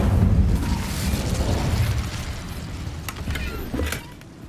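A fiery spell bursts with a loud whooshing roar in a video game, rumbling and crackling before gradually fading, close and dense with no talking.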